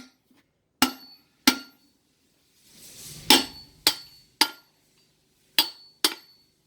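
A hammer strikes an installer tool to seat a wheel seal on a Class 8 semi truck, giving about seven sharp metallic taps in an irregular rhythm, with a brief scraping rustle between them and no talking.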